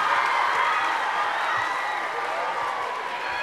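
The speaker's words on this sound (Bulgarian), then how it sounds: "водещи Димитър Рачков и Васил Василев Зуека, които бяха посрещнати с еуфория от публиката." A theatre audience applauds a stage show by popular TV hosts Dimitar Rachkov and Vasil Vasilev-Zueka with dense, steady clapping and crowd noise that fills the whole stretch without letting up.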